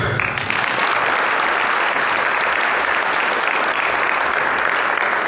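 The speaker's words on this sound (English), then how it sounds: "thank you so much for that nice round of applause" A studio audience gives a talk show host a steady, dense round of applause, loud and continuous from start to finish with no voices over it.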